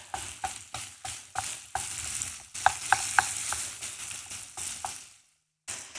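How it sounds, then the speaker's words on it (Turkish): Minced meat and onions fry in a pan while being stirred, with repeated spatula scrapes over a steady sizzle, close and moderately loud, then a short silent pause before the frying resumes. "Şimdi şöyle eze eze kıymamı kavuruyorum."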